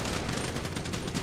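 Rapid gunfire in a video game, dense and continuous like machine-gun bursts, moderately loud with no pauses.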